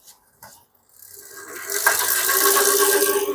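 A Motobello electric bike motor spins with its throttle unplugged. It starts quiet, then rises after a moment into a loud, steady whirring whine with a rattly edge, close by and sustained to the end.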